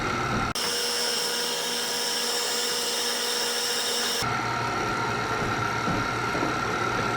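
An electric hand mixer runs at low speed through banana bread batter, a steady whirring motor hum held for several seconds that shifts in tone partway through, with no talking.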